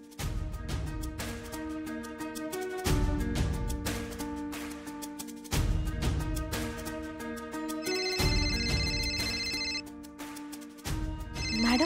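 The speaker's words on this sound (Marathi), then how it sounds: "मॅडमचा फोन." A phone ringtone repeats its melodic ringing pattern several times, clear and steady with no talking.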